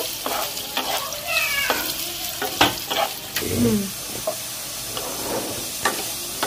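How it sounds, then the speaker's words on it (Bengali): Potatoes stirred and fried in hot oil in a Bengali home kitchen, a steady close sizzle broken by repeated scraping and clinking of the spatula against the pan. "নাড়াচাড়া দিয়ে একটু ভেজে নেব।"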